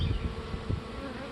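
A dense, steady hum of honeybees buzzing close around a hive, continuous and even with no voices.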